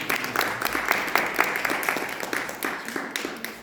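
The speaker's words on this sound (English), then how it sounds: "We have a big round of applause for Rajeev." A small audience claps for a lecturer after a talk on the Sakalārhat Stotra, individual hand claps distinct and close, rhythmic and steady throughout.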